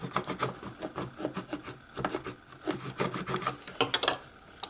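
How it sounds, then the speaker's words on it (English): Close rubbing and scraping as a tool presses vinyl decal down onto a jar, a series of short irregular strokes, moderately soft, with no speech. "So now I'm just gonna place this on top of my jar. Scrape it down good."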